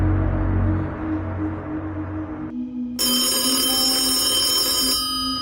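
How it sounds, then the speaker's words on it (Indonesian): A telephone on a dining table inside a house bursts into loud, shrill ringing partway through, cutting sharply over a quieter low hum. "Suara dering telepon yang sangat kencang membuat Weda terkejut bukan kepalang"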